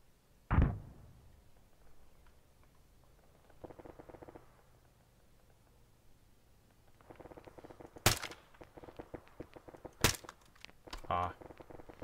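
Gunfire in a military video game comes as a few isolated, sharp single shots spaced seconds apart, with quieter clicks and faint muffled activity in between.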